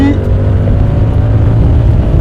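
A 2023 Yamaha R7 motorcycle engine in A2-restricted form revs hard and close, a steady, loud drone that holds throughout without pause.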